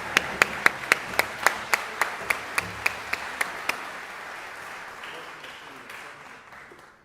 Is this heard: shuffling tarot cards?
no